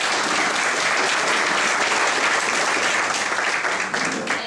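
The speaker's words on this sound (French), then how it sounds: "On peut applaudir pour l'organisation" A large crowd at a seniors' day opening event in Farnham claps for the organisers, a loud, dense and sustained round of applause with a steady roar throughout.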